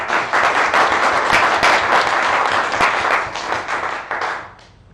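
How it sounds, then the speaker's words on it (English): A presentation audience in a lecture hall claps after a talk on Bitcoin and crowdfunding: steady, dense applause from many hands that holds, then thins and fades out at the end. "People, please give Alex a big applause"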